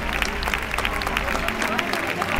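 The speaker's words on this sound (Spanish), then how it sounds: "fuerte aplauso para estos magníficos jinetes." A crowd gives loud, dense applause for horse riders from Peñaflor, Chile, with talk mixed into the clapping.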